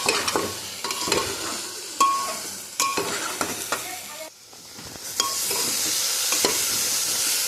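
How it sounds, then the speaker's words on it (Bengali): Ground fried spice powder and chilli powder being stirred in a frying pan at home, with repeated scraping strokes over a steady sizzle that grows louder toward the end; no talking. "ভাজা মশলার গুঁড়া দিয়েছি, তাও একটু নাড়াচাড়া দিয়ে নিই।"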